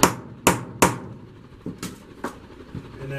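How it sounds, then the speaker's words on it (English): Sharp metallic hammer strikes on a center punch into steel, three loud evenly spaced blows followed by several lighter taps, close and ringing briefly. "what I'm doing now is center punching out"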